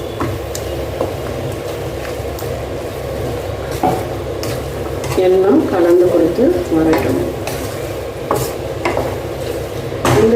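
Andhra-style small gooseberry pickle is stirred in hot sesame oil in a pan, giving a steady sizzle under repeated scraping and clinking strokes of a spoon against the pan, close and fairly loud.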